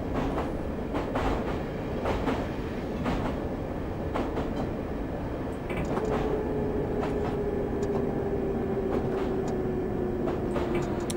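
A London Underground District Line train in a simulation game rumbles along with steady clickety-clack of wheels over rail joints, a continuous loud roar and a rising motor whine as it approaches the station.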